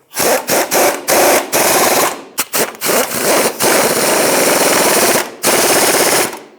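Pneumatic impact wrench tightening nuts on the engine mount of a 2002-2009 Chevrolet Trailblazer, firing in loud, close rattling bursts separated by short pauses, with one long sustained run near the end.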